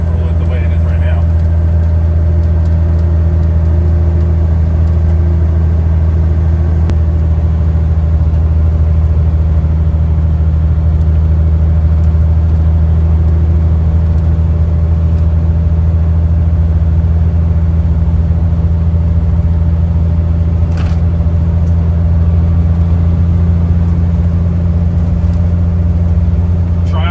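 A Peterbilt cabover truck on a test drive gives a steady, loud low engine drone that holds an even pitch throughout, with faint road noise and a brief click near the end.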